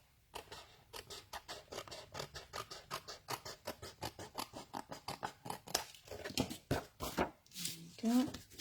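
Scissors trim fabric in a quick series of close, crisp snips with a steady rhythm, followed by a short voice near the end.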